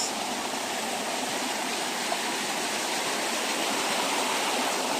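Twin Falls waterfall in Labrador, Pangasinan, roars as a steady, dense rush of falling water, constant and fairly close with no other sounds.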